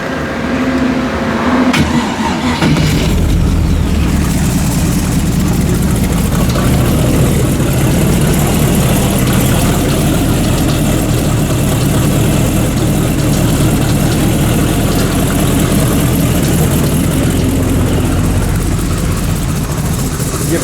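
Freshly broken-in 350 small-block Chevy V8, valves still unadjusted and rockers slightly noisy; a brief crank, then it catches and runs loud and close, a steady rough idle with continuous low rumble.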